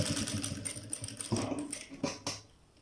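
Sewing machine running in short stitching bursts while a sleeve patti is sewn onto a sleeve, a rapid close mechanical chatter that stops and restarts a few times.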